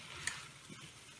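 Sausages frying in a pan are stirred, giving a faint soft sizzle with a sharp scrape of the utensil against the pan near the start and a lighter scrape later, all quiet and close.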